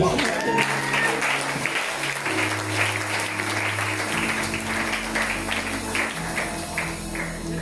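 A church congregation applauds and cheers for the Lord, steady dense clapping with voices throughout, over sustained organ or keyboard chords.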